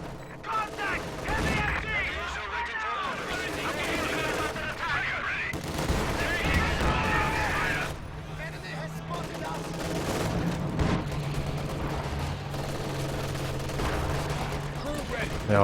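Battle noise from Company of Heroes 2: bursts of gunfire and booming Katyusha rocket artillery, dense and continuous, with a commentator talking over the combat throughout.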